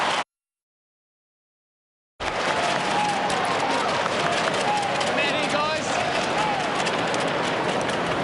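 Dense roaring crowd at a Sydney Swans versus Fremantle Dockers AFL game, loud and sustained after a brief silence, with commentary voices in the mix.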